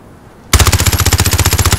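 Rapid automatic gunfire in a 1v1 video game match, a loud, close burst of about seventeen evenly spaced shots lasting just over a second after a short quiet lead-in.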